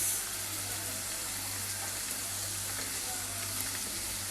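Vegetables hit a hot pan with saltfish for steamed cabbage, giving a steady, even sizzle and hiss that runs unbroken throughout, with a low hum underneath and a voice talking over it.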